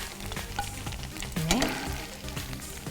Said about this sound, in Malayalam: നമ്മളപ്പോൾ ഇഡലി ഒന്ന് ഫ്രൈ ചെയ്ത്